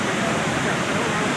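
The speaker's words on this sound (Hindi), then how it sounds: "ये जनाब अबशार देखें, बहुत ही प्यारी" A waterfall on the Ratti Gali trek in Neelum Valley roars as a steady, dense wash of falling water, close and loud, with no break throughout.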